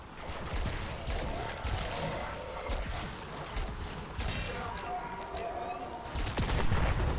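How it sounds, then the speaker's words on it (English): Explosions and blasts as coil drives are destroyed in the game Deep Rock Galactic during a Thermia fracture sealing mission, dense repeated booms and crackling gunfire-like bursts throughout at steady loudness. "love blowing up those coil drives every time"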